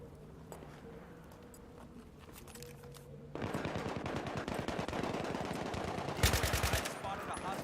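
Rapid bursts of machine gun fire ring out in the video game Battlefield 3, quieter at first then loud and dense from midway, with a sharp louder burst near the end over battlefield noise.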